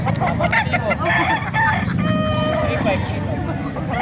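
Gamecock roosters crow at a busy poultry market in Bocaue, several overlapping calls rising over a dense crowd murmur and nearby talk, with faint clucking throughout.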